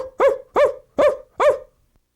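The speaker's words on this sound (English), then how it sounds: "Was that a dog I heard barking?" Four evenly spaced barks from a dog, close and loud, each short and clipped, followed by silence.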